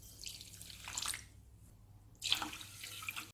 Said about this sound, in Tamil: 2 டம்ளர் அளவு தண்ணி சேர்த்துருக்கேன்.